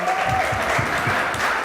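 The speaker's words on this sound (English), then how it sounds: "So let's give them both a big round of applause." A book-launch audience claps warmly for John Warlow and Hannah, a dense, steady round of applause filling the room for its whole short length, with a bit of voice mixed in.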